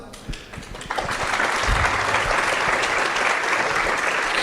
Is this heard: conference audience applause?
yes